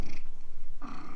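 A rescued pet cat purrs close up in a steady, rhythmic rumble of evenly spaced pulses, with a faint snuffling breath near the end.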